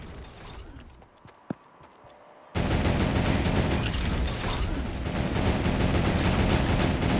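A mounted turret fires in a video game: a quiet stretch with one sharp click, then a sudden, loud, dense burst of continuous fire that holds steadily to the end.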